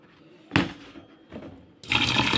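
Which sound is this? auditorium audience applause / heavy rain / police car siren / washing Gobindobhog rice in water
washing Gobindobhog rice in water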